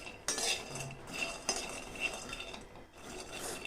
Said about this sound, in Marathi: शेंगदाणेसुद्धा आपल्याला बारीक गॅसवरती छान भाजून घ्यायचे